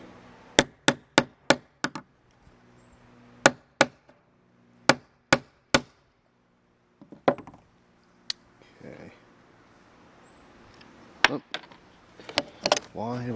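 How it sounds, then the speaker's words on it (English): Sharp metallic hammer strikes drive a knife blade through a quarter, ringing out in quick bursts of three or four, pausing between sets, followed by scattered knocks and some rustling. "I figured I'd grab myself a hammer and I'd make sure that these go through the coins"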